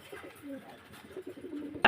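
Pigeons at a pigeon farm in Mohammadpur, Magura, give low, throaty cooing in short repeated phrases, close and fairly clear over a quiet background.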